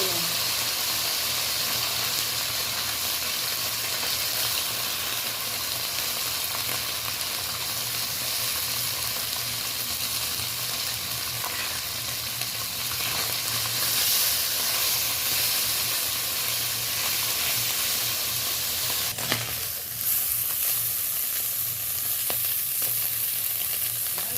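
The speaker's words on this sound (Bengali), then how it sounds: "তেলটা গরম হয়ে গেছে আমি মাছটা কড়াইতে দিয়ে" Small niharika fish, pond-caught, frying in hot oil in a kadai with a steady, close sizzling hiss and spitting bubbles running throughout with no talk.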